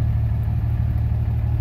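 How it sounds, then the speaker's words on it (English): A 2006 Dodge Ram 2500 diesel pickup idling with a suspected lift pump fault, a steady low rumbling idle heard up close and alone. "I don't know if you can hear the idling."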